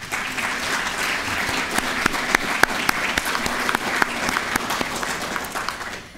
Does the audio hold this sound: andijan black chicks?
no